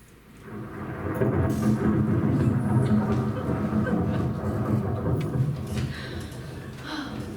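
A rolling peal of thunder from a thunderstorm swells up quickly and rumbles on steadily for several seconds, loud and deep, then slowly tapers off, with no talk over it.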